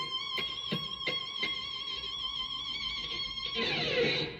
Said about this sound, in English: there's this high pitch kind of bend squeal, like a lot of reverb